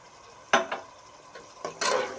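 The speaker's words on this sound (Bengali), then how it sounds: "এখন এর সঙ্গে আমি দিয়ে দেব লিকুইড দুধ" Liquid milk goes into cooked masala in a pan and is stirred, giving a few soft scraping strokes and a faint sizzle, quiet with clear gaps, ending in a longer stirring swish.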